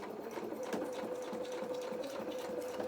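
A domestic sewing machine stitches a bodice seam on a doll's playsuit, giving a steady, close, continuous mechanical whir with a fine rapid needle patter and a faint tonal hum throughout, with no talk.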